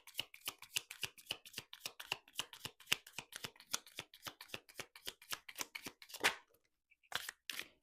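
Tarot cards are shuffled by hand in quick repeated riffles, a dense run of crisp close flicks and snaps at a steady rhythm, broken by a brief pause before a few final card slaps.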